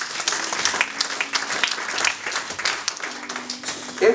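Church congregation applauding during an Easter Sunday service, a dense patter of many hands clapping steadily for several seconds, with a sustained tone and some voices mixed in underneath.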